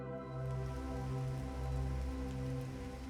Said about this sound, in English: stained glass windows glowed dimly through the thick veil of rain